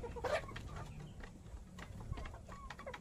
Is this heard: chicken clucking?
yes